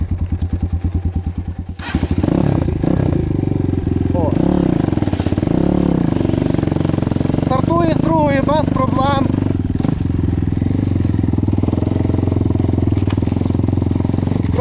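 KAYA 512 motorcycle ridden through thickets, its engine note loud and close throughout, rising and falling with throttle over rough ground, with someone talking over it.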